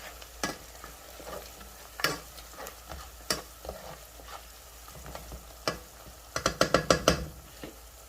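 Onions fry in a pan while a utensil stirs them, and a soft sizzle lies under intermittent scraping and clacking strokes that bunch into a quick rattling flurry near the end, heard up close with no talking.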